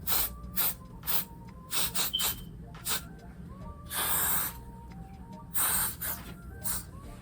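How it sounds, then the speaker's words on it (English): Several short, hissing hairspray bursts onto a lace wig repeat at irregular intervals, some longer than others, close by, with faint background noise between them. "You just spray it on there."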